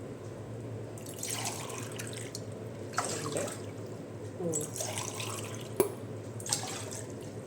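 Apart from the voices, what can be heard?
water being poured into a pot for cooking rice flour dumplings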